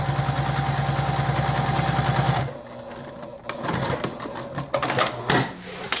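Sewing machine stitching a bag's pocket lining, with a steady loud run for about two seconds before it stops, then quieter handling clicks and rustles of fabric.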